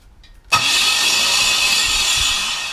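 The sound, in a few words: starter motor scraping metal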